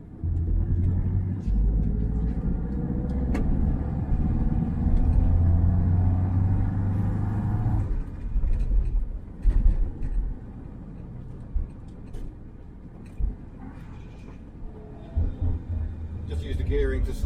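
A Triumph Mayflower car drives along while slowing on engine braking through the gears, its steady low engine and road rumble dropping off midway, with brief knocks and talk over the drone.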